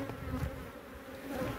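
Honey bees swarm around a hive in a cliff rock face, a dense continuous buzz with wingbeat hum rising and falling as insects fly close by, no talking.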